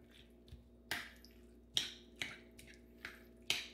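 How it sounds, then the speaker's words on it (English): Tuna salad with lemon juice and mayo is stirred in a bowl, wet squelching scrapes arriving in a slow, uneven series of sharp close-up strokes with quiet gaps between them. "Stir everything all together."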